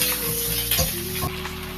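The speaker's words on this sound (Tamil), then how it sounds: "வெங்காயத்தை இது நல்லா கொஞ்சம் வதங்கணும்." Onions sautéing in a pan for a home-style rava idli batter, a steady close sizzle with faint stirring scrapes and no voices.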